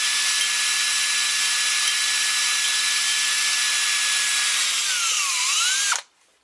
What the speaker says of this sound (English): If you go fast, you tend to burnish the stainless steel and it makes it hard, and you'll dull your bit